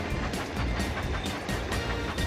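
Continuous rumbling train sound with rhythmic clickety-clack of wheels on track, steady and moderately loud, like a game's looping train effect.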